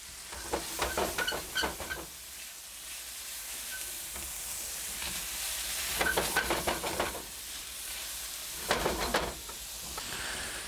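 Food sizzles and crackles in hot oil just before rice is added, with bursts of louder spattering as it is stirred, over a constant hiss.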